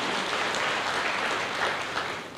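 Sustained applause from a church congregation during a sermon, a dense, steady wash of clapping that fills the whole stretch and tapers slightly at the end.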